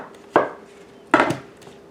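Two sharp knife strokes through peeled fruit on a cutting board, each a crisp thud with a brief rustle after, spaced under a second apart.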